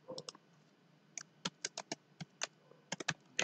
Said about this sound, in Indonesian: Lalu di dalamnya kita ketikkan